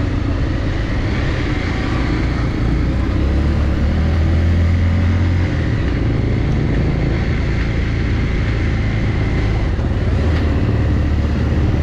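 A motorcycle engine labours steadily while climbing a steep uphill road near White Ghumba in Kathmandu, Nepal, with a loud, continuous drone that holds close to the listener throughout.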